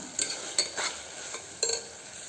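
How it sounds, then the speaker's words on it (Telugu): Ground masala paste frying in oil in a pan while a spoon stirs it, three or four distinct scraping strokes over a soft sizzle, close and short. "ఇది గ్రైండ్ చేసుకున్నాం కదా, అది వేసి ఆయిల్లో ఫ్రై చేసేసుకుందాం"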